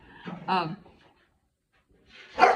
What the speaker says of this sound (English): My dog's playing in the background.